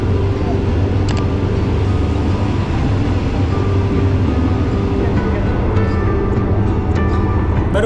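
A passenger train running from Thailand to Malaysia rolls along with a constant broadband rumble and rattle, heard from inside a carriage with no window glass, with faint voices in the background.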